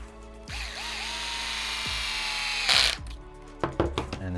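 A power driver whirs for a couple of seconds, tightening a screw into a plated limited slip differential for an ARRMA EXB RC car. A sharper burst comes as it seats, followed by several quick clicks and taps of parts being handled.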